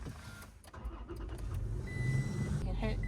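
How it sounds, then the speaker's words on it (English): A Toyota Tacoma pickup truck cranks and catches, settling into a low idle that grows steadier, heard fairly near, with people talking over the start. "We're gonna start the truck."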